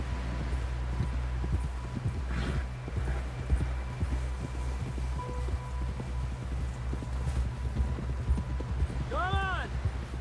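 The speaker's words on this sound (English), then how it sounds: "Someone help John down off this horse" Horse hooves clip-clop at a steady walking pace in the video game Red Dead Redemption 2, heard close and continuous under a low ambient hum and talk, with a brief whinny-like call near the end.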